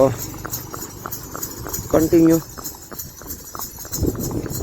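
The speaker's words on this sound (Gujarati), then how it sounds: "પાછી ઉપાડી છે ઘોડીઓ ધીમે ધીમે બરોબર" Two mares' hooves clop in a slow, regular walking rhythm while someone speaks briefly over them.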